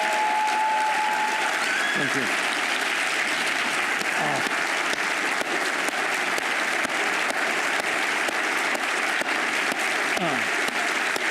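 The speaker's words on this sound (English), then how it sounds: "please help me in giving a thunderous applause" Loud, sustained applause from a large crowd fills the whole stretch, with a voice briefly offering thanks over it.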